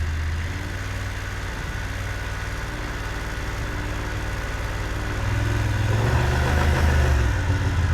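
A motorcycle engine idles steadily during a slow-speed U-turn drill, a close, even low rumble that swells slightly louder toward the end as the bike is set up to move.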